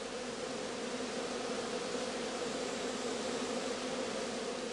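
Honeybees swarming out of a straw skep produce a dense, continuous buzzing drone, steady and moderately faint, with no voices over it.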